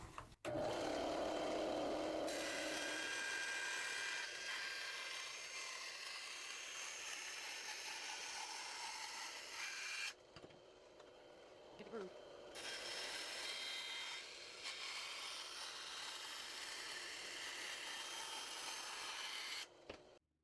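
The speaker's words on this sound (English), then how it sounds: "I set this up on my bandsaw." A bandsaw rips through wooden boards in a continuous, steady rasping whine, with brief breaks where the blade clears between passes and a faint rustle during the pauses.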